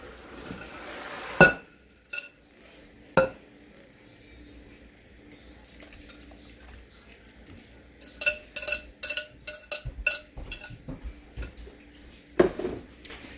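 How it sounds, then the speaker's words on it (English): Wet and dry ingredients for blackberry bread are mixed in a bowl, with clanks and clinks of a utensil against the bowl. The sounds come in scattered bursts, some sharp knocks and then a busier run of clatter, with a voice talking in places. "We are going to add our wet ingredients to our dry ingredients."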